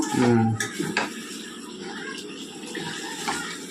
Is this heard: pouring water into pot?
yes